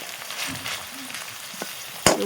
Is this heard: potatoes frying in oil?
yes